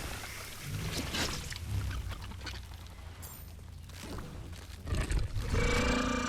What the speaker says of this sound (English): They made the wasps sound like motorcycles.